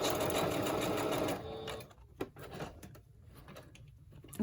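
A sewing machine stitches through crafting paper with a zigzag or straight stitch, whirring steadily for over a second before stopping, followed by a few light clicks and taps of handling nearby.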